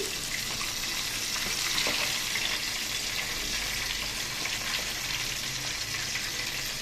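Pieces of bochu fish fry in hot oil in a pan, giving a steady, dense sizzle with light crackles throughout, close and alone.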